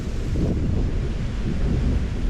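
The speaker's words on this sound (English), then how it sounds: "I've never been on any island when a storm came through." A thunderstorm rolls over Skiathos island in Greece, a loud, steady low rumble with wind buffeting the microphone and no distinct cracks, continuous throughout with no voices.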